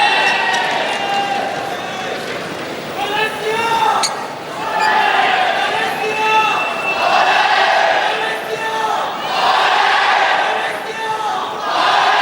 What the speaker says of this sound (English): the crowd really are warming up for this